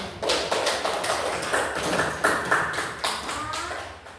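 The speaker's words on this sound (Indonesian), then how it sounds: "Kita kasih tepuk tangan dulu." A group in a classroom gives a round of applause, with sharp, uneven claps repeating at a moderate level and fading toward the end.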